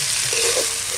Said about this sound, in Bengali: পেঁয়াজ খুব সুন্দর করে ভাজে নিছি, এখন আদা রসুন দিয়ে দেবো